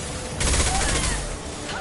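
A heavy high-impact gunshot in a video game hits hard as one loud burst with a rattling, ringing tail that fades over a second or so, close and forceful.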